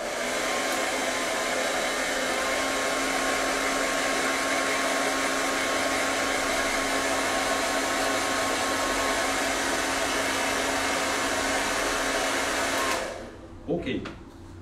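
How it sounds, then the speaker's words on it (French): A hair dryer blows in a continuous loud whoosh with a steady motor whine during a children's craft workshop, cutting off near the end, followed by a few brief handling sounds. "on peut même y aller au sèche-cheveux"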